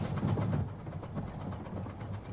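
A steam train on the Romney, Hythe & Dymchurch miniature railway pulls into New Romney station, a low rumbling rattle with rhythmic clanks and clicks of the carriages, fairly faint and steady throughout.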